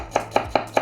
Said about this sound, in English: So when I'm chopping, I'm very fast.